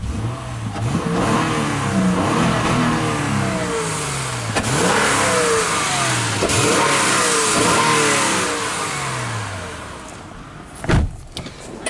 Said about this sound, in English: Give it a quick rev over here.